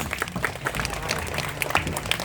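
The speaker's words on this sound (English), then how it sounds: "so let's give her a round of applause" An audience at a parrot show in African Lion Safari Park, Canada, applauding the parrot Papaya: a scattered, moderate round of hand claps from the crowd, with a voice and sharp chirpy sounds popping up over it.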